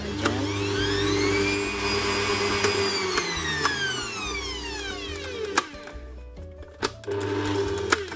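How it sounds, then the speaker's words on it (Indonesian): Electric hand mixer whirring as it beats extra butter into salted egg pineapple tart dough, a steady loud motor drone with pitch slowly shifting, then a few clunks and a brief pause before it resumes. "Kita mixer dulu aja."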